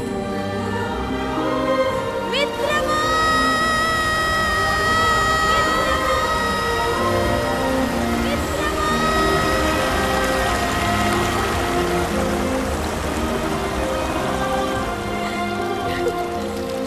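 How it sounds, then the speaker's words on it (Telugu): A waterfall rushes in a Telugu historical action film scene, a steady broad roar of falling water running throughout under a layer of music. "జలపాతం మరలాగే ఉరుకుతోంది కదూ."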